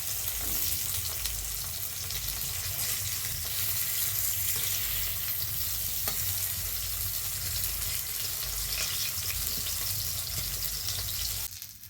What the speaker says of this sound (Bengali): এইভাবে লাল লাল করে আমি সব ভেজে দেবো